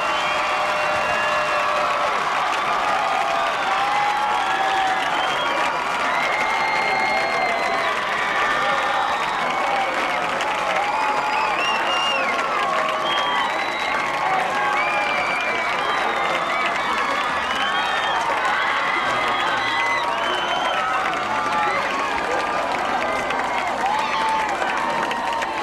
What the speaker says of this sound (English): The crowd's still going crazy for the Vikings.